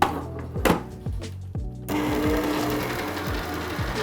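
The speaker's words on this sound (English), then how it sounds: "Now I'm using this mixer, but if you don't have a mixer like this at home, you can use a hand mixer" Electric stand mixer beating chocolate cake batter, a steady motorized whir that turns loud and continuous after a few softer pulsing bursts, with no talking.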